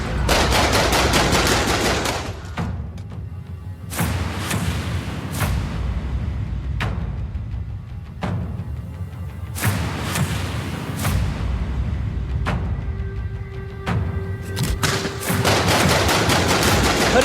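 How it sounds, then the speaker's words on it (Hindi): Loud bursts of gunfire crack out in rapid volleys outside a house at night in Moradabad, several rounds in quick succession separated by short pauses, echoing outdoors. "घर के बाहर ताबड़तोड़ गोलियां चलाती ये महिला"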